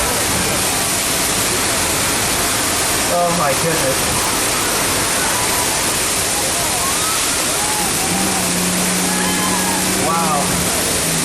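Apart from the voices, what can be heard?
rushing water from burst water main on Universal Studios ride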